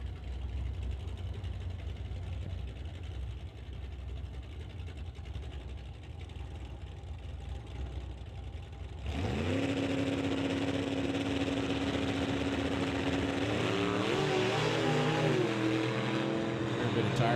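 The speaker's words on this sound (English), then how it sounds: "Tire slippage there for Mark Balland in his 55 Chevy as David Sidden is trailing on that qualifying run." A 1955 Chevy on a drag strip qualifying run with tire slippage, its engine rumbling steadily at first, then surging louder into a high revving roar with rising and falling pitch sweeps.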